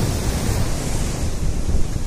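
Sea waves of the Bay of Bengal wash in at Marina Beach, Chennai, a loud, steady roar of surf mixed with wind buffeting, with no voices.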